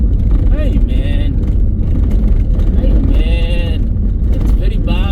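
A car rattles and rumbles along a rough, badly potholed international highway on a Kenya to South Africa road trip, a loud continuous low drone of engine and road noise under steady, anxious talk.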